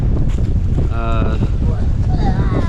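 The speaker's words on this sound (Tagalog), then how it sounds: "talagang grabe ang hangin, ang lakas" Strong wind on an outdoor hiking and fishing spot buffets the microphone in a constant loud roar, with faint whistling tones and surf-like noise beneath.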